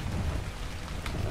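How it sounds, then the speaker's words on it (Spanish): Steady rain falls in the survival game ARK, a constant hiss of drops with a soft low rumble beneath, holding evenly throughout without voices. "Justo se pone a llover ahora."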